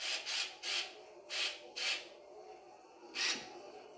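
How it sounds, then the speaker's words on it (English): Small electric screwdriver driving tiny screws into a chrome engine cover on a Redcat RC model, heard as five short, close whirring bursts at an uneven pace. "And you know, I like this electric screwdriver I have."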